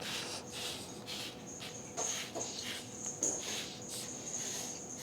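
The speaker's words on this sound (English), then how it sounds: "I think he found one of his toys that has a little bell inside it" A small bell inside a cat toy jingles faintly in short, scattered bursts, some distance away, against a quiet room. No voices.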